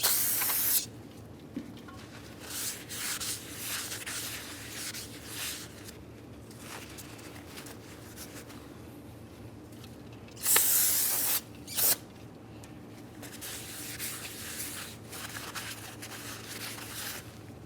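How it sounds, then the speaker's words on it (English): Parts cleaner sprayed onto both braking surfaces of a new brake rotor for a 2005-2010 Dodge Dakota, heard as short, quiet aerosol hisses in scattered bursts, two louder ones near the middle, with faint handling noise between. "We'll use some parts cleaner and clean rag."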